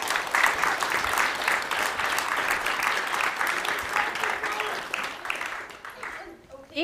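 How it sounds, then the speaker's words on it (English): A church congregation claps for the guardians during a service, with a thick wash of steady applause that gradually thins and fades, and a few voices come through as it dies away. "Give our guardians a round of applause for helping us."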